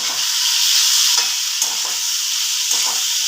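A pan sizzles loudly and steadily with a bright frying hiss as egg curry fries, interrupted by a few scraping stirs of a spatula.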